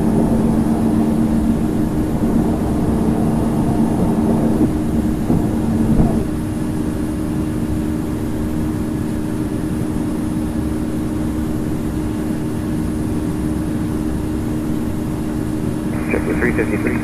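Simulated jetBlue Airbus A220 jet engines rumble steadily at high power during a takeoff roll and climb-out in Infinite Flight, a constant broadband roar, while a voice makes cockpit callouts over it in the first few seconds.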